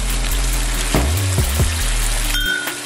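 Water is poured into a pan of chicken frying with yoghurt and split green chillies, and a loud steady sizzle and hiss rises, with a brief clink near the end.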